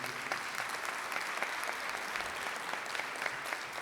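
Steady applause from attendees at a Rotary Club meeting, a moderate wash of many hands clapping continuously throughout.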